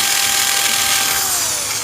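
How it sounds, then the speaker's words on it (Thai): A power drill boring drainage holes in the bottom of a coconut shell pot, one loud continuous high whine held close for the whole stretch, its pitch sliding slightly downward near the end. "เจาะด้านล่างนะครับ เพื่อจะเป็นรูระบายนะครับ"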